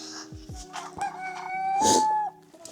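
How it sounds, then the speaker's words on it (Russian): Roosters crowing close by, a long loud cock-a-doodle-doo rising and holding near the end, with some clucking and other fowl calls around it. "Ой-ой-ой, петухи разорались."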